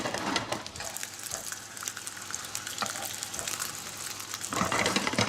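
Fish fingers in breadcrumbs sizzle and spit steadily in a hot pan, a bright crackling fry running throughout with slight swells and a louder burst near the end.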